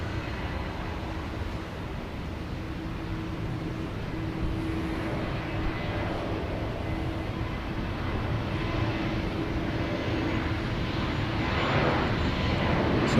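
An airliner takes off from runway 15 right at Houston Intercontinental, a distant jet roar that builds steadily louder over several seconds, heard alone.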